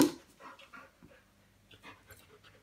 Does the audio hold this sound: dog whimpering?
yes